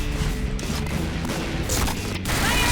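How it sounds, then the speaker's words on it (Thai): Grenade explosions in the online shooter Point Blank, heavy crashes and booms mixed with rattling gunfire in a dense, loud game battle, with no voices heard. "ระเบิดแม่งเยอะชิบหาย"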